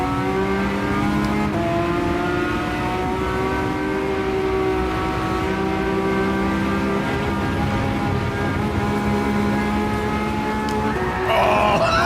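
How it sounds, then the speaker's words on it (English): A Ferrari F12 racing engine roars steadily in Gran Turismo 7, its sustained tone shifting through revs, loud and continuous with a brief surge near the end. "go Ferrari F12"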